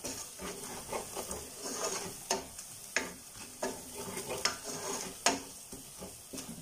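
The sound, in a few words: turmeric powder frying with ginger and garlic in a pan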